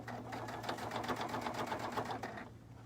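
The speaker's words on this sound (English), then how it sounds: "I'm going to lock stitch that." A sewing machine lock stitches through fabric for a soft fabric cube, running as a rapid, even mechanical rattle with a steady motor hum for about two and a half seconds before stopping, close and alone with no talking.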